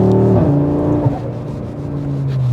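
Audi RS3 pulling hard under acceleration on the road, a loud close engine note climbing steadily with a brief drop at a gear change, then building again.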